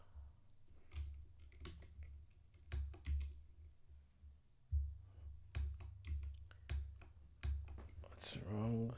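Fingers type on a new computer keyboard in uneven bursts of sharp clicks with short pauses between, close and fairly quiet, while a person talks softly under the keystrokes.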